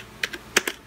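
Several quick keystrokes on a computer keyboard entering a command at a FreeDOS prompt, a few sharp close clicks in an irregular rhythm against a quiet background.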